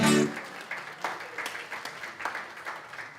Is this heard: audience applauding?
yes